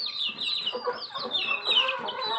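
Young chicks in a chicken coop cluck and peep in quick overlapping high calls, close and fairly loud, a busy continuous chatter with no voices.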